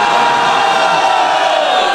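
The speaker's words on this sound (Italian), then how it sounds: "non voglio applausi, voglio un urlo al mio 3" A large crowd at an Italian film event lets out a loud, sustained shout together on cue, a brief roaring cheer that holds for two seconds.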